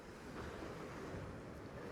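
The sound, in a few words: waves coming in strongly at the coast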